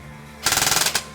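An airsoft gun with a KWA motor fires a rapid burst through a chronograph, about a dozen quick mechanical cracks in an even rhythm lasting half a second, loud and close.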